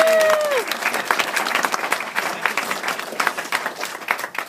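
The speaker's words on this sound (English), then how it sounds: "So if we can have a round of applause for Debbie, thank you very much." Guests at a wedding give a round of applause, a warm, fairly close patter of many hands that swells and continues steadily, with a brief voice at the start.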